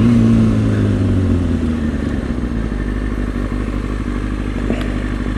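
A motorcycle engine drones steadily, then its note drops as the throttle is cut for a quick clutchless shift, with a brief clunk before the engine settles into lower road noise.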